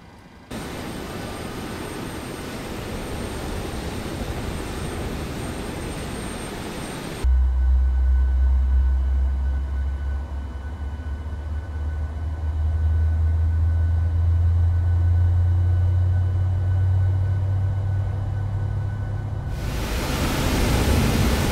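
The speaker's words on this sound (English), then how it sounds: "we can start up engine 1" PMDG 737-800 engine 1 starting at a Las Vegas gate in a flight simulator: a steady broadband hiss gives way to a deep, loud low rumble that builds and holds to the end, with no talking.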